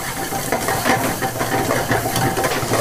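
Chopped onion sizzles in hot oil for a homemade black-masala mutton curry at a hotel in Baramati, a steady, close, hissing fry with crackling spatters and no talk.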